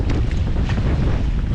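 Strong wind at sea roars steadily and buffets the microphone from a fishing boat on open water, with a deep rumble and no break.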